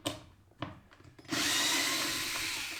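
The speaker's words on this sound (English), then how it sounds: "This IKEA drill has paid itself 20 times over." An IKEA power drill bores into wood while building a plant cabinet. After a few quiet, scattered knocks, the motor kicks in with a loud, steady, close whir that runs without a break to the end.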